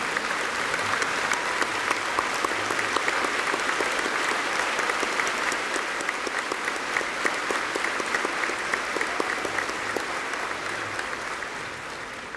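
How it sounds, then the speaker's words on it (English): A large audience at a high school graduation ceremony applauds the veterans standing among them, producing steady, dense clapping that holds at full strength for about twelve seconds with no voices over it. "Round of applause, please."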